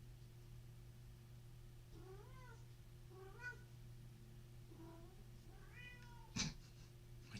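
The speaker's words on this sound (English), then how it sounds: "My cat is actively trying to break the door down right now." A house cat meows repeatedly while trying to get through a closed door, several rising, plaintive calls spaced a second or so apart over a steady low hum, ending with a sharp knock or thump.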